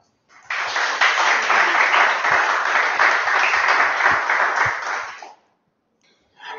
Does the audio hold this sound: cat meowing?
no